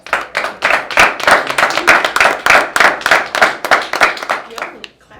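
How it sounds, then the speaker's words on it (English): Close, loud rhythmic clapping at a podcast gathering in Cleveland, a fairly regular beat of sharp claps, roughly three per second, that continues for several seconds and then stops. "Your claps be so loud"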